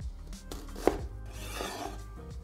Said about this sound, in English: then angle the knife to cut it into wedges.